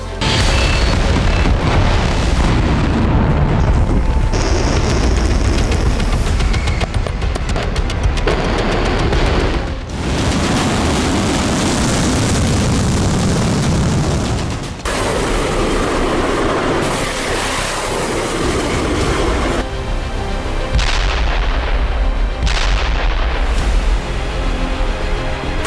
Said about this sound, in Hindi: रूस यूक्रेन जंग में दोनों तरफ से मिसाइल से हो रहा प्रहार।